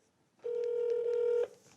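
A telephone tone plays as a call is placed, a single steady electronic beep of about one second, clear and close, with no voices.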